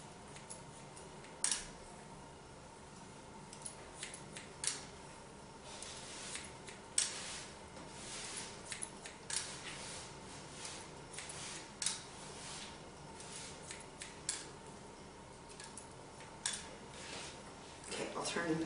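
Scissors snip hair during a high and tight military haircut, crisp irregular clicks spaced a second or two apart, close, with quiet talking underneath.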